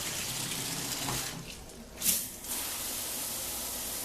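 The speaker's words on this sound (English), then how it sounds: "It has good water pressure." Steady hissing spray of a hotel room shower with good water pressure fills the space nearby, with a brief splashy disturbance midway before the even flow resumes.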